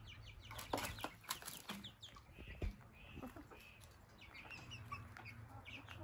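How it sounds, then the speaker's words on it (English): A rooster clucks several times inside a barn housing Wellsummer and Wyandotte chickens, close and moderately loud, with some faint rustling and flapping in the background. "That's another rooster that thinks that he has hens right here."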